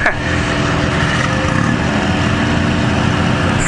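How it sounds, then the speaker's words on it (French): Off-road prototype race car engines roar together at the start line of a cross event, a dense, loud, continuous mechanical drone heard from close by without a break. "certains protos ont allumé leur moteur"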